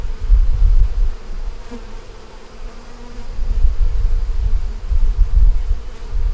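Honeybees buzzing around an open hive in a loud, continuous low drone close by, swelling and easing as the swarm moves.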